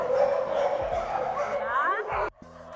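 Aspin dogs (Filipino native dogs) bark and yip close by at a Philippine animal shelter, several overlapping, mixed with voices talking, ending in a sudden cut.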